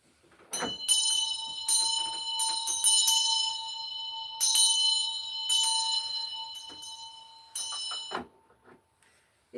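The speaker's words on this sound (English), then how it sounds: "Ring a bell here." A bell rings in repeated bursts, its bright metallic tone sustaining and decaying between strikes, with a few uneven pauses and soft clicks before it stops near the end.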